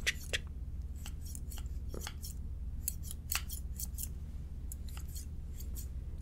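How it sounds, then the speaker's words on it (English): Scissors snip rapidly close by, cutting hair in a barber shop, crisp clusters of metallic cuts in quick irregular bursts over a low steady hum. "And I'm gonna take the scissors and go in."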